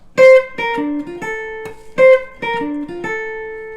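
A short melodic swing guitar lick of plucked notes, played twice in a row, clean and close, with each note ringing briefly before the next.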